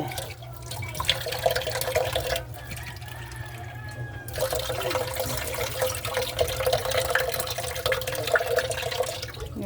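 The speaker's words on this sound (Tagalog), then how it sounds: "dadagdagan ko yung tubig" Water pours steadily into a pot of rice, a continuous splashing and trickling with small drips, fairly close and without voices.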